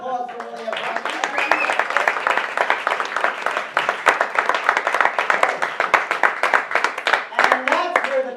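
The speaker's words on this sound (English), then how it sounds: "Round of applause for Lilia Brown" Audience claps for a performer at a comedy show, the sharp claps coming in fairly spaced bursts, while some tonal sound or voices carry at the start and end.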